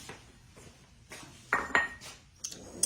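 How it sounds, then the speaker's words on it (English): Eggs cracked into a bowl and mixed in a home kitchen: sparse clinks and taps of shell and utensil against the bowl, a few sharper knocks standing out over a quiet background with no talk. "I'm going to break these in another bowl, and I'm going to mix them up good before I put them in."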